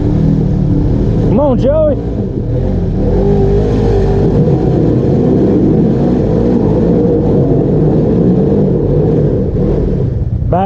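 An off-road vehicle on a trail at Windrock, its engine roaring loud and close at wide-open throttle in a continuous heavy rumble, while people shout encouragement over it.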